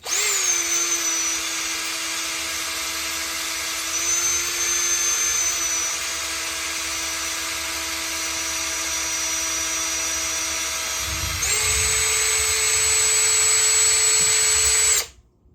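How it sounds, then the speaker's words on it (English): A power drill whines steadily at high pitch while drilling out metal parts on a 1966 Batmobile, with a brief dip around the middle and a sharper, louder pitch rise near the end before cutting off. "We're going to be drilling these 3 out"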